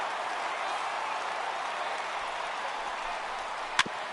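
Crowd of over 39,000 at a baseball game in MLB 16 The Show gives a steady roar and applause, broad and distant, with one sharp click near the end.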